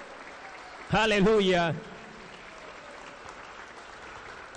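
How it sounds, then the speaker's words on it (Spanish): A church congregation claps steadily for Christ during a Spanish-language sermon, continuous hand-clapping through which one voice briefly calls out loudly. "Aplauso para Cristo Jesús. Alegre las palmas para Cristo"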